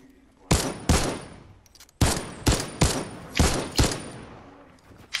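Gunfire in a Fortnite match cracks out in sharp, close bursts, with a couple of shots, a pause, then a rapid string of single reports that fade between hits.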